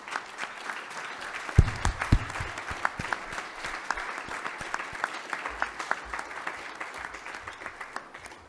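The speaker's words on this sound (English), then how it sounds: "All of us owe a round of applause and thank you to Naomi." At a lifetime achievement award presentation, an audience claps in a sustained, lively round of applause, with close individual claps standing out sharply against the dense crowd clapping throughout.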